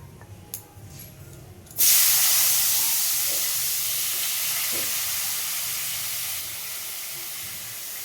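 Roasted potatoes hit a hot pan of cumin-tempered oil with a sudden loud hiss that settles into a steady, slowly fading sizzle, with no talking.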